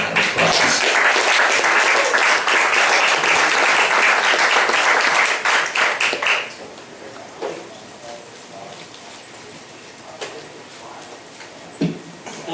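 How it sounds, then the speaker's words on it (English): Audience applause for veteran Ian Walter at a veterans' tribute music event, loud and sustained for about six seconds before dropping off to scattered claps and room noise. "Please give him a big round of applause."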